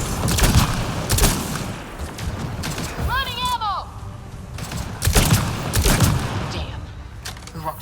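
Gunfire in the Mass Effect: Andromeda video game: loud, sharp bursts of shots come in clusters, with a brief whistling sci-fi tone in between and voices speaking under the action.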